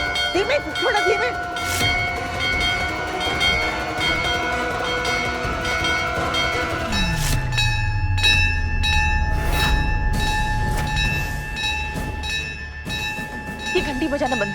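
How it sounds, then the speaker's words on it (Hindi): A hand bell rung repeatedly indoors in a household, its bright sustained ringing tones layered over loud background sounds and a low, falling rumble, continuing for about fifteen seconds. "ये घंटी बजाना बंद कर।"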